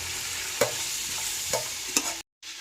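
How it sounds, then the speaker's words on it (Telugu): Thinly chopped green chillies frying in oil with cardamom and nutmeg powder for Nellore chicken biryani, a steady close sizzle broken by three spatula scrapes and a brief silent gap near the end. "నెక్స్ట్ ఒక 5 పచ్చిమిర్చి సన్నగా కట్ చేసుకొని వేసుకోవాలి."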